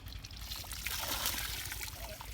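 Irrigation water running from an open tap into a 35-day-old potato field makes a steady, close trickling gush that flows without a break for a couple of seconds.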